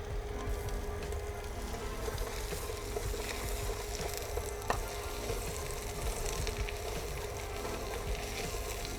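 A potato millefeuille cooks in foaming butter in a pan, making a quiet, even sizzle and bubbling that runs unbroken throughout with no voices.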